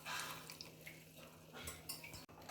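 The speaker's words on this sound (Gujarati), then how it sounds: "અડધા કપ જેટલું ગરમ પાણી છે તે હું દાળમાં એડ કરી દઈશ" Half a cup of hot water poured into a pot of boiled dal, heard as a brief close splashing pour over a faint background hum.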